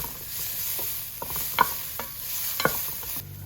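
Garlic frying in a pot for one-pot béchamel macaroni, stirred with a utensil that knocks and scrapes the pot a few times over a steady sizzle.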